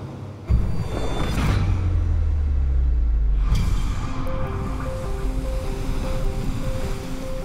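Ocean waves crash against a rocky outcrop off the south coast of England, with two heavy surges of surf roaring close by and then a steady wash of churning water and wind.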